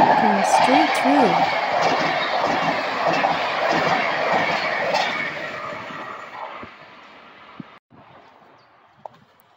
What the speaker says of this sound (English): Here comes a really fast train. Going straight through.